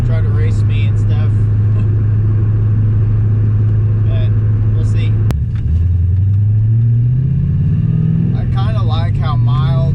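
An LS-swapped Nissan 240SX driven on the road, its engine droning loud and steady, dipping briefly then rising as it pulls through the revs.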